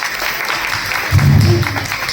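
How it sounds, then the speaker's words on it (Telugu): Children clap together at a small introduction gathering for young kids, a steady, dense patter of many small hands lasting throughout, with a low voice briefly rising over it partway through. "గట్టిగా చప్పట్లు కొట్టండి."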